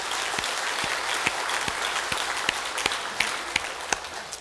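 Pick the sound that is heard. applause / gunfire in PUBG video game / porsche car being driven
applause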